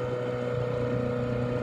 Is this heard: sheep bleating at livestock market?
no